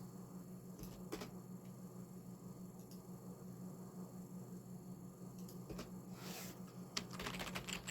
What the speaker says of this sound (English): So I'm just typing this so that I don't forget this.